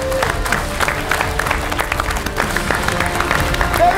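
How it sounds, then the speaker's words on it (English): An esports studio audience at a Rocket League match claps and cheers to welcome a player to the table, dense loud applause filling the space with crowd noise and a voice faintly underneath. "Get a round of applause for Repex!"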